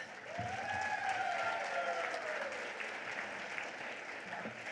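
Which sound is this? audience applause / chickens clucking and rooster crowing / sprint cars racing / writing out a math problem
audience applause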